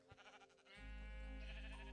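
A sheep in a Minecraft-style video game lets out one long, wavering bleat that starts after a short, soft lead-in and then holds steady, close and clear with no talk over it.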